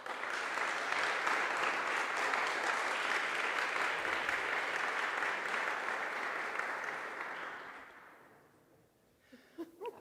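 Audience applause for the first participant at an online SIT Barcelona event, a sustained even wash of clapping lasting about eight seconds before fading out, followed by a few faint clicks.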